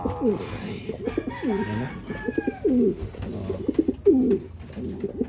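Racing pigeons cooing close by in repeated soft throaty bursts, with a few faint voices in the background.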